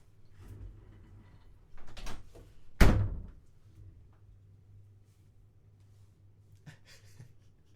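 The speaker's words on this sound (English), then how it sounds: "Why don't you close the door too?" A door is pushed shut in a quiet room, one sharp thunk at the close after a few softer shuffling knocks, with low room hum underneath.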